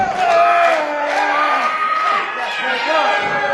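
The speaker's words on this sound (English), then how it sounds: "This crowd is solidly behind the challenger." A wrestling event crowd cheers loudly for the challenger, a dense, sustained roar of shouting voices that stays steady throughout, with a commentator talking over it.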